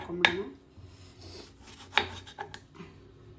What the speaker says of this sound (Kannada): ಟೊಮೆಟೊ ಚಿಕ್ಕ ಚಿಕ್ಕದಾಗೆ ಕಟ್ ಮಾಡಿ ಇಟ್ಕೊಂಬಿಡೋಣ